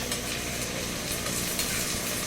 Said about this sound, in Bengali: দিয়ে এটাকে একটু ভুনবো